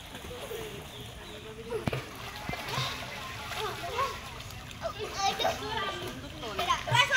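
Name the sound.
children swimming and splashing in water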